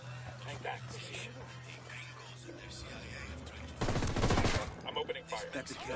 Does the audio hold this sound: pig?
no